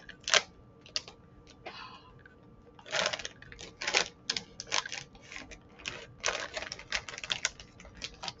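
Black sesame karinto snack packaging opened carefully by hand, giving irregular crisp crinkling and tearing bursts, some sharp and close, spread over several seconds with no talking.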